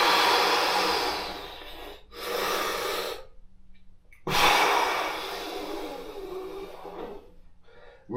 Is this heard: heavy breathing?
yes